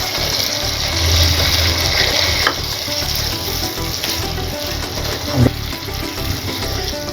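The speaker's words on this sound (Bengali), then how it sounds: "আমরা এর মধ্যে দিয়ে দিচ্ছি একটি বড় সাইজের টমেটো আমরা এটাকে কুচি করে কেটে নিয়েছি দিয়ে দিচ্ছি এখানে" Chopped large tomato sizzling with onions and spices in a pan for chickpea curry, a steady close fry with stirring scrapes and a brief louder clatter near the end, no talking.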